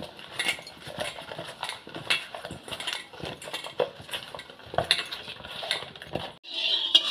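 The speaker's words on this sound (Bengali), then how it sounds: "বেগুনগুলোয় লবণ হলুদ আমি এবার একটু মাখিয়ে নেব" Eggplant pieces being mixed by hand with salt and turmeric in a metal bowl for Bengali fried eggplant, with irregular close clinks, taps and scraping of the pieces against the bowl throughout and no talk.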